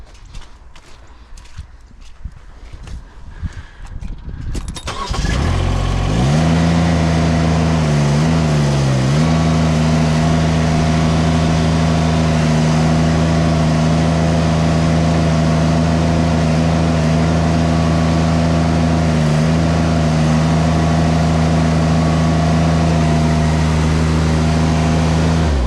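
An EASTONMADE log splitter's engine cranks and fires at about five seconds, then runs loud and steady with a droning, slightly wavering tone; faint rustling comes before it starts.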